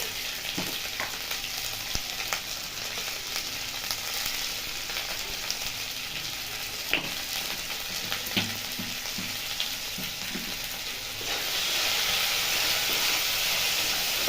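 Chopped tomato, salt and spices fry in a pan with ginger and garlic for palak paneer, giving a steady close sizzle with occasional stirring clicks that grows louder and hissier near the end.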